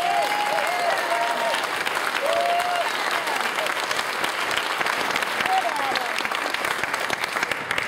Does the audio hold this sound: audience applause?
yes